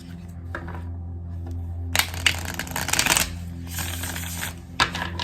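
Tarot cards shuffled by hand, a brisk papery riffling and slapping that bursts out loud after a quieter start and keeps going in uneven flurries over a low steady hum, with no talking.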